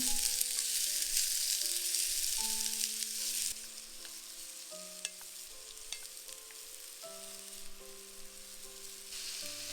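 Diced pumpkin with garlic, salt and black pepper stir-fried over medium-low heat, giving a continuous close hiss and crackle with occasional light utensil clicks, under steady background music.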